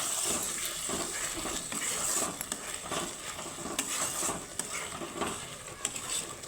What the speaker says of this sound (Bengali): মশলাটাকে আমি সুন্দরভাবে কষিয়ে নিব বন্ধুরা